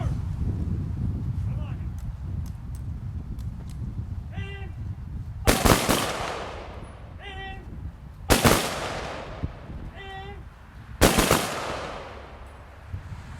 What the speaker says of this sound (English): Mr. Graham, could we have the rifle salute, please?